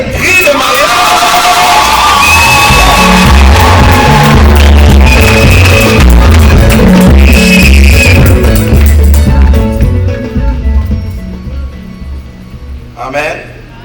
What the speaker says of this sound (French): Est-ce qu'on peut pousser des cris de mariage?